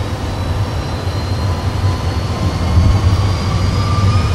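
Aircraft engines spool up to takeoff thrust, a loud continuous low roar with a rising whine, steady and close throughout with no talking.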